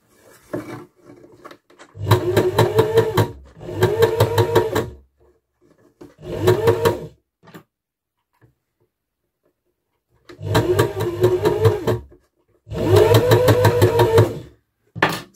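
A felting machine's needles punch rapidly into fabric held flat against the machine bed, sounding as a loud, steady mechanical chatter in several bursts separated by silent pauses.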